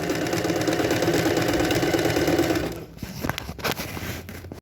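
A sewing machine runs steadily at close range for about two and a half seconds, stitching topstitching thread on a denim jeans pocket, then stops, leaving a few soft handling clicks and rustles.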